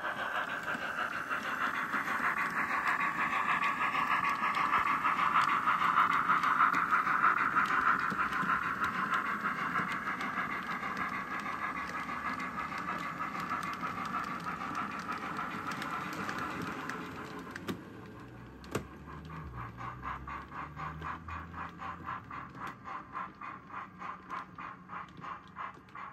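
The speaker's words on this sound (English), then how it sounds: "The train is in the station and now it has to start switching." A train rumbles and hums steadily in Berenbach station for a long stretch, then the tone shifts to a rhythmic clatter of wheels as it moves slowly.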